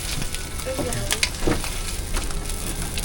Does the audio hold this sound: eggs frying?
yes